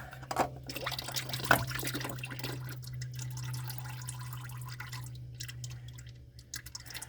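Motor oil draining from a 2023 Chevrolet Equinox onto the ground during an oil change, a faint trickle and drip under a steady low hum, with a couple of brief louder knocks near the start.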